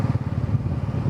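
Royal Enfield Bullet motorcycle riding on roads near Garjiya Devi, its engine giving a steady low, rhythmic thumping throb, close and loud, with no talking.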